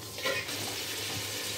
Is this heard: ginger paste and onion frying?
yes